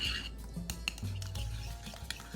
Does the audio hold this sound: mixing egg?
yes